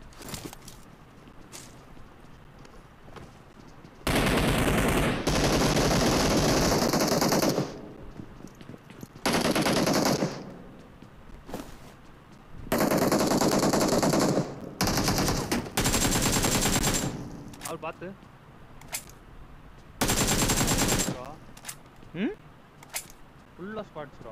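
Video game gunfire plays during a mobile stream on a Redmi K20 Pro, with long loud bursts of automatic fire broken by pauses, while a voice chats quietly underneath.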